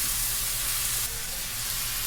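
Bedgi chillies and cashews sizzle as they roast with onion and tomato in a pan for paneer masala, a loud, steady hiss of frying that continues throughout.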